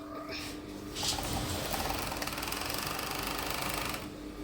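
An overlock sewing machine runs steadily for several seconds, stitching and overlocking fabric for a duvet cover, with a continuous close mechanical whir that stops abruptly near the end.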